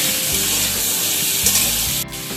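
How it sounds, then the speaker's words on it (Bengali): Salted, turmeric-dusted potatoes and papaya fry in a pan with a loud, steady hissing sizzle up close, a brief louder burst midway and a sudden drop near the end, no talking. "এবার হালকা করে একটু আলু আর পেঁপেগুলোকে ভেজে নেব।"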